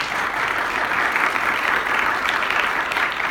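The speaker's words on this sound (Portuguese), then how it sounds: "Bom, então eu gostaria de pedir uma salva de palmas para o Renato" Sustained, even applause from an audience thanking a speaker after a tech talk on app development, dense clapping at a constant level with no pauses.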